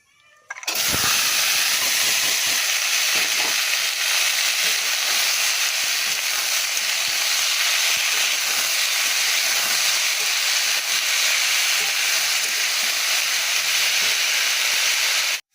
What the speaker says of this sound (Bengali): উচ্ছে ভাজাটা হয়ে এসছে